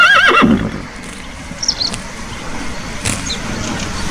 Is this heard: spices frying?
no